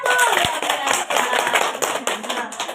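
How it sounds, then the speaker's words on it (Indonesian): Clapping from participants in a stunting-response training session for the first presenting group; scattered claps with light tapping, moderately close and fairly brief, with some voice mixed in. "Tepuk tangan untuk kelompok 1."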